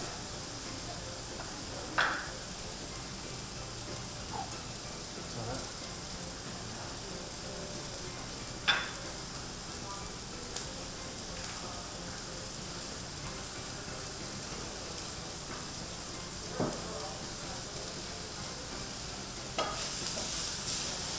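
Food browns in a pan on the stove with a low, steady sizzle, broken now and then by soft clicks from a stirring utensil. No one speaks.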